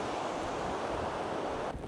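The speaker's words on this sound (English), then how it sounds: "Just the water dripping off all the moss everywhere. And then you have the creek running by." A creek runs through a mossy canyon, a steady, even rush of water with no breaks that fades slightly at the very end.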